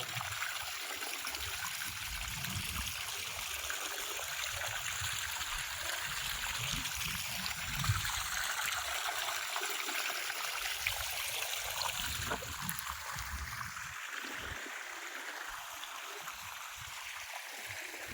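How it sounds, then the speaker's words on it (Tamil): Steady running water flows continuously through a garden irrigation channel, a soft trickling and gurgling stream with no voices, holding an even level throughout. "மல்லி வர வைத்து தண்ணி பாய்ச்சுகிறோம்"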